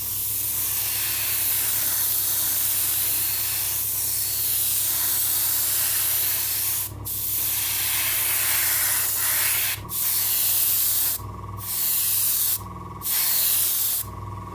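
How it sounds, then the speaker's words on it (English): Airbrush spraying a black shadow base coat onto a plastic Revell Star Wars Venator-class Star Destroyer model kit, a steady close hiss running throughout, broken by several brief pauses near the end. "now with the primer layer down, I'm going to apply a black shadow base coat."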